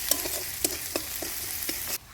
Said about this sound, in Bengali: পেঁয়াজটা একটু ভেজে নিলাম।